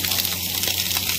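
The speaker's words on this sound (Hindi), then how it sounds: "अच्छे से पानी आ रहा है यार" A pressurised fountain sprays water in a steady, close gushing hiss that holds evenly throughout without pauses.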